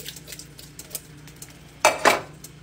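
A spoon stirs taco soup in a pot after tomato sauce and diced tomatoes go in. Light, scattered clinks and scrapes are followed by two louder, close metallic clatters.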